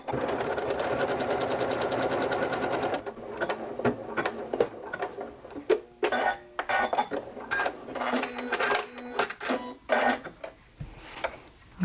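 Sewing machine stitching a quilt-as-you-go fabric block, a steady dense mechanical whir for about three seconds, then stopping into scattered clicks, knocks and handling noises close by.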